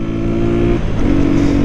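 A motorcycle with an aftermarket exhaust idling loudly up close, a steady deep rumble that briefly drops off before picking up again, heard alone without talk.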